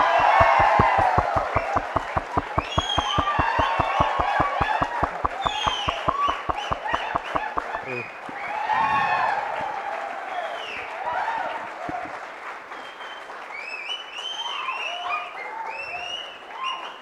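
An audience claps for instructor Akshay at a project competition prize distribution, starting as loud, rapid, even rhythmic clapping that loosens into scattered applause with some crowd murmur and voices toward the end.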